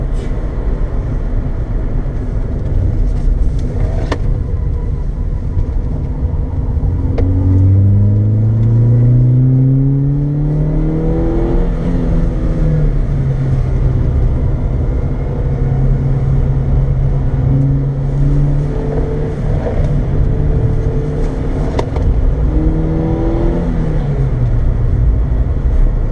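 A Ford SportKa car drives its first lap on a race track, engine droning loud and close from inside, pitch rising through revs with gear changes and easing off, under steady road and wind noise.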